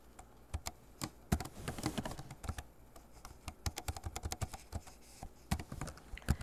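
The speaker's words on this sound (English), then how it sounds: "and then type in the equation" Fingers type an equation on a computer keyboard into Maple math software, a quick irregular run of close, crisp key taps and clatters with short pauses, no voices.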